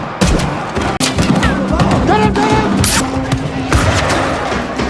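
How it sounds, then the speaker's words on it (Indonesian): Gunfire in a cartel action movie firefight, a dense burst of shots and thuds over a loud mixed soundtrack, with shouted voices throughout. "Pertempuran dibuka oleh Jordan yang melepaskan beberapa tembakan dengan diikuti oleh Carson yang berjaga di atas menara"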